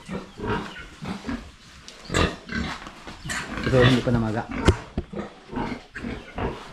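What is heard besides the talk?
pigs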